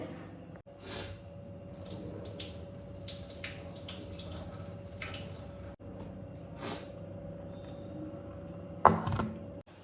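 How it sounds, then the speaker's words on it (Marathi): Coarse broken wheat (bharda, daliya) being rinsed in water in a home kitchen: soft sloshing and squishing of grain in water with a steady background hum, and a brief louder splash near the end. "आता मी स्वच्छ पहिल्यांदा धुवून काढते"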